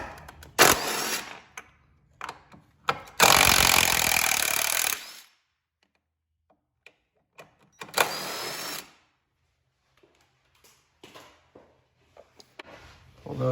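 Ratcheting and turning of a 13mm socket on the battery tray bolts and nut of a Fiat 500 Abarth, short bursts of loud mechanical whirring with clicks and handling noises between them, close by.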